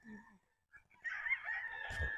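A rooster at a chicken coop crows briefly, a faint, fairly distant call that swells near the end of a short moment of quiet outdoor ambience.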